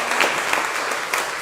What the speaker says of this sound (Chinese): 再一次拍手